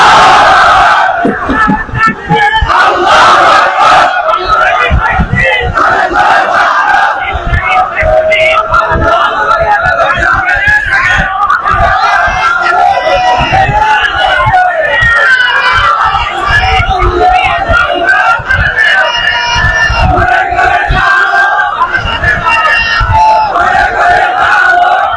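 A large crowd at an outdoor Islamic religious gathering chants the takbir, shouting Allahu Akbar in loud unison. The rhythmic group chant keeps going with little break.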